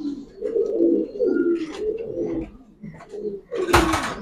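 Giribaz pigeons cooing up close, a run of low, throaty rolling coos repeated over several seconds, followed by a sudden burst of wing or body noise near the end.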